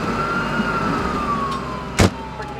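Ambulance siren in a fictional emergency scene, a single steady wailing tone sliding slowly downward as the vehicle draws near, with a brief sharp noise burst near the end.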